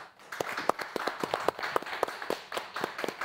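Audience clapping and applause, a burst of many hands with sharp irregular claps, moderately loud and fairly close, no talking.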